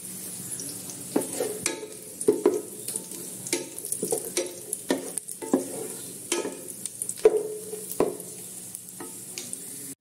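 Cashews frying in ghee in a pan, a soft crackling sizzle with frequent light scraping and stirring knocks, moderately close, with no talking.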